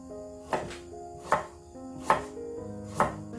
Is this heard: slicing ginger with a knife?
yes